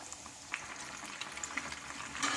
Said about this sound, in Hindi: हमें एक एक करके सारे डोनट्स इसमें डाल देना है और इसे मीडियम आंच पे गोल्डन ब्राउन होने तक के फ्राई करना है